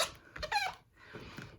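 A rubber craft stamp wiped with a chamois gives two short, high squeaks close up, quiet and crisp, with no talking.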